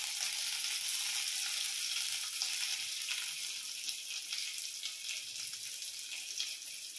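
Mustard seeds splutter in hot sesame oil for tempering, making a dense, bright crackling hiss that stays steady and fairly close for the whole stretch.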